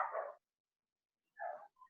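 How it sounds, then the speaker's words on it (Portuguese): A dog gives two short, moderately close barks about a second apart in an otherwise quiet room, heard during an online class. "Não, o cachorro."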